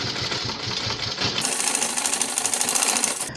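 A sewing machine stitches a blouse seam in a rapid, even mechanical chatter, starting slower and then running faster and louder from about a third of the way in, close and alone.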